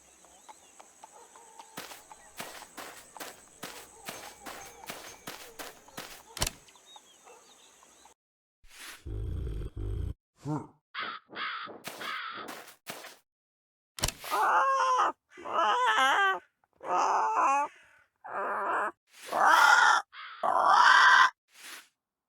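In the video game Yaga, a bird caws and squawks in a run of harsh, rooster-like calls, loud and close, after a stretch of quiet clicking sounds.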